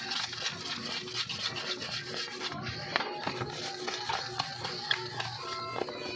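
Steady scratchy rubbing of sandpaper against a surface, in repeated back-and-forth strokes at close range.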